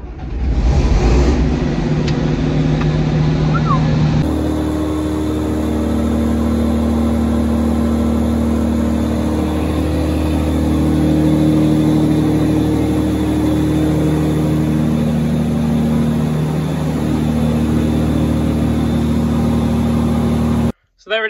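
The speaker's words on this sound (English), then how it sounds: "There's a 6-cylinder Mercedes engine in this combine." A Claas Dominator 96 combine harvester with a 6-cylinder Mercedes engine runs steadily near the microphone. It gives a continuous mid-pitched drone with a whirring hum and stays level until it cuts off at the end.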